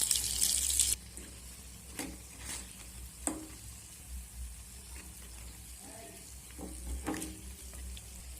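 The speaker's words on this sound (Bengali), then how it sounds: "এখন বন্ধুরা মিডিয়াম আঁচে উল্টে পাল্টে চপগুলোকে ভালোভাবে ভেজে নেব।" Potato chops fry in hot oil over a medium flame, a soft continuous sizzle with occasional clinks and scrapes as they are turned, preceded by a brief loud burst at the start.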